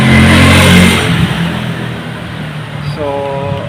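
Motorcycles passing on a street, a loud revving engine close by at first that fades as it moves away, with a voice speaking briefly near the end.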